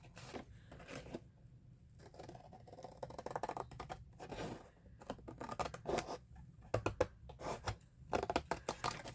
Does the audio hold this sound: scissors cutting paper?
yes